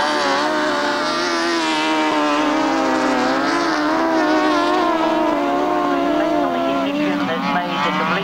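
Grasstrack racing motorcycle engines at a meeting in Hastings, a continuous loud, wavering high-revving whine from several machines with pitch rising and falling as they race, with an announcer talking over them.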